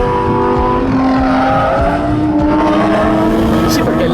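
Lamborghini Huracan STO on the Vairano race track, loud close engine roar with shifting revs and tire noise, a voice speaking over it.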